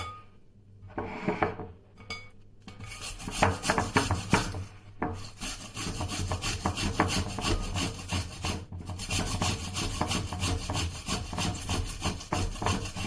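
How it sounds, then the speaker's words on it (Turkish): An onion is grated by hand over chicken pieces in a container, with continuous rhythmic rasping strokes that start after a few hesitant scrapes and keep up close and loud, with only short pauses. "Ve bir adet soğanı rendeleyeceğiz üstüne"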